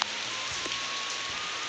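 Heavy rain falling steadily, a dense even hiss of drops on surfaces close by, continuous for under two seconds with no talking.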